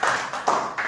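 An audience claps for the people who prepared the meal at a Shavuot gathering. The applause comes in a few quick, close bursts of hand claps.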